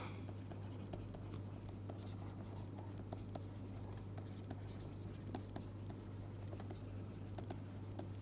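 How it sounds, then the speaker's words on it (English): Writing during a physics lecture on heat capacity, a soft, steady scratching of strokes with small taps throughout, faint and close over a constant low electrical hum. "I am going to write down this first"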